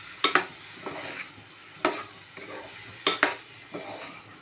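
Spatula scraping and stirring through ivy gourd paste frying in plenty of oil in a pan, a few sharp scrapes in irregular bursts over a soft continuous sizzle, close and alone.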